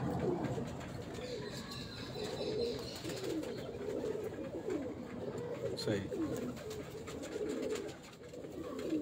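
Ghoda pigeons coo softly and repeatedly on a rooftop, a low continuous burble with occasional chirps, while someone talks nearby over them.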